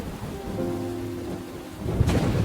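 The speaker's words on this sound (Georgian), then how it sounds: "წვიმა უფრო სწრაფად მოდიოდა" Heavy rain and a thunderstorm: a steady hiss of downpour with a low hum underneath, then a sudden crack and rumble of thunder near the end.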